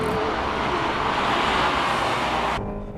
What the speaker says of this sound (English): Look at the sharp entry of this Integra R.